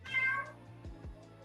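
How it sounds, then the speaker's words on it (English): A cat gives one clear, close meow, rising and then falling away, followed by a few faint soft sounds, with no talk over it. "The cat even said bye."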